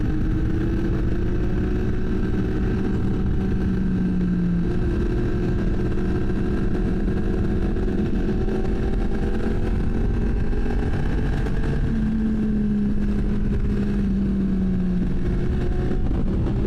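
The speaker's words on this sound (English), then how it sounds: "very loud bike behind me. And he still has a catalytic converter in his." A loud motorcycle that still has its catalytic converter idles nearby, a continuous low engine drone with a couple of slight pitch rises and no voices.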